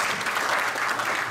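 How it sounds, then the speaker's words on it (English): A brief burst of dense audience applause for three speakers at an academic conference session on curriculum design, steady and loud throughout. "A round of applause for our 3 speakers."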